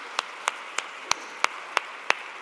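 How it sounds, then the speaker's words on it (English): A few audience members at a Portsmouth education conference clap slowly, about seven sharp, evenly spaced claps ringing in a quiet hall. "I think we should give them another round of applause"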